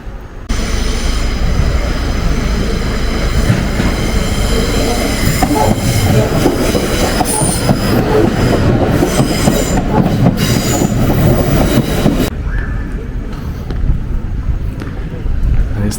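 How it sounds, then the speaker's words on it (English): A train rolls through a level crossing in Poole's town centre, a loud continuous rumble of wheels and carriages with some squealing, holding steady for about twelve seconds before easing off into quieter street ambience. "Or you can wait for the train to come through."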